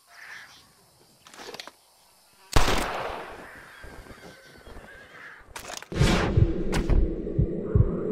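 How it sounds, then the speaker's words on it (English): Birds being flushed up in the Red Dead Redemption video game burst into the air with loud flapping and honking calls, the noisy flurries coming in two main waves amid the game's background noise. "I'm gonna scare up some birds."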